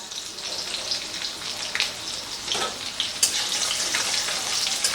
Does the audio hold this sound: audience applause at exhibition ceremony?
no